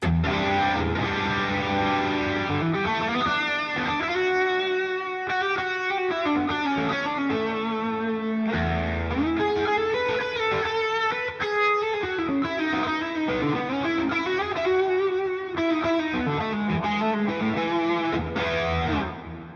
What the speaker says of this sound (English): We're in a little amp room.